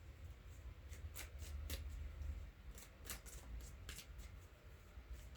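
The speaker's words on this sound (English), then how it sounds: "We're going to do a quick shuffle here." Tarot cards are shuffled close by in quick riffles and soft slaps, a rapid flurry of crisp papery clicks over a low background hum.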